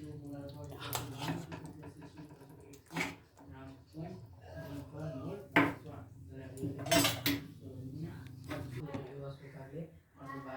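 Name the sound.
fish curry being served into a bowl, dishes and cutlery clinking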